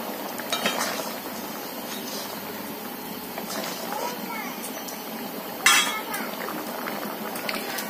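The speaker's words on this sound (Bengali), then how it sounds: "তো এই যে দেখতে পাচ্ছ আমার ঘুগনি তরকারি এখন ফুটছে" Ghugni, a pea and potato curry with tomato and ginger and no onion, simmers in a pot with soft bubbling, broken by light clinks of utensils and one sharper metallic knock near the end.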